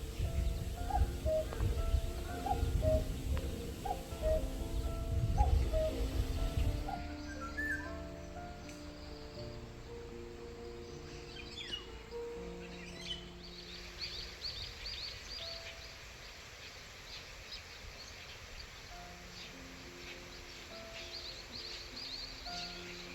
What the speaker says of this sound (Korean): 새들도 정말 많아요.